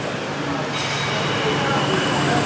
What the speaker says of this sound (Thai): นี่คือสถานีรถไฟฟ้า